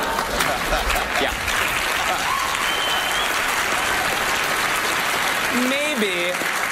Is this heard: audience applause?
yes